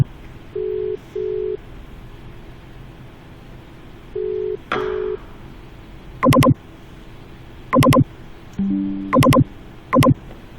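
Telephone dialing tones from a phone being called, short paired beeps in an irregular sequence followed by several brief sharper tone bursts, clear and close over a quiet background hum.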